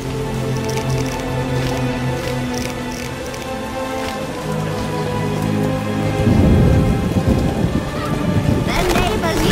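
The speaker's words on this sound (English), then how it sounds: "Storm's coming." Steady rain pours down in The Witcher with low rumbling thunder building, swelling louder near the end; a broadband hiss fills the whole stretch.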